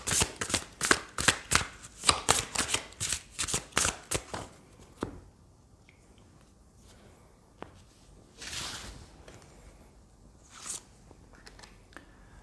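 Oracle cards are shuffled by hand in a quick run of crisp riffling snaps for about five seconds, followed by a few faint, scattered card flicks in a quiet room.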